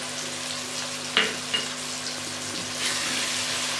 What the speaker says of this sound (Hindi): अब मैं 1-2 मिनट के लिए इनको भून लूँगी।